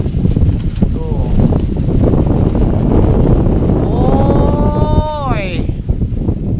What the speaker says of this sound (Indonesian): Mulai angin besar.